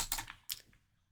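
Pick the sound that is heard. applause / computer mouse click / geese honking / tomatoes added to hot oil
computer mouse click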